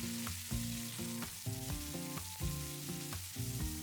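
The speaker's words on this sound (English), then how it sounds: "fry this until the onion is nice and soft" Two chopped onions sizzle and crackle steadily in hot oil in a pan, a close, continuous frying hiss with occasional stirring scrapes and no voices.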